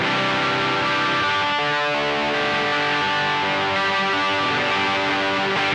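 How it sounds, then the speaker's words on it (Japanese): Electric guitar through a BOSS BD-2W Blues Driver set for heavy distortion rings out loud and gritty, with a brief break in the strumming midway before sustained distorted chords carry on alone. "かなり歪み強めですけど、こんなぐらい歪みます。"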